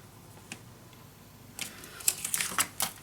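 Scissors or a paper cutter trim a scrapbook page near a pocket gusset: a faint click early on, then a quick close series of crisp snips and ticks over the last second and a half, with no voices.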